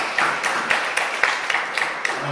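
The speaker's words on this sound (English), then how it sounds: "So I think we should be giving them a wee round of applause." A church congregation at a Sunday all-age worship service gives a short round of applause, light scattered claps repeating a few times per second at moderate distance.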